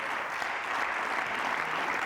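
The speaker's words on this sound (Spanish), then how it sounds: "dale un aplauso al Señor" A church congregation claps during a sermon, a dense and even wash of many hands heard at moderate loudness with no voices over it.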